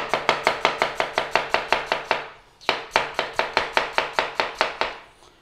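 Potatoes sliced with a knife on a board for a Lancashire hot pot, in a steady run of crisp, evenly spaced chops close by, broken by one short pause partway through.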